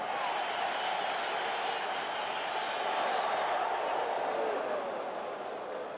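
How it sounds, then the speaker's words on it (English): Stadium crowd at a Mariners–Yankees baseball game rallying behind pitcher Dwight Gooden, a continuous, broad roar that swells slightly midway, with a commentator talking over it. "And you can hear the crowd get behind Dwight Gooden."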